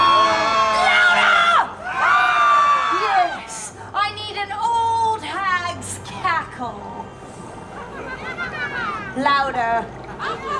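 At the Oogie Boogie Bash Halloween party event, a crowd of children and adults screams and shrieks in several loud bursts of fright on cue, with overlapping high-pitched voices and cheering.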